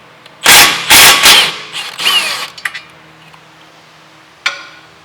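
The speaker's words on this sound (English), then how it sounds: "now with our 17 millimeter, we're gonna go ahead and remove these two bolts for the caliper bracket." Short, loud bursts from a power tool backing out the 17 mm caliper bracket bolts on a 2014 Mazda CX-5, two strong pulses followed by weaker rattles and a brief final burst, close by and without speech.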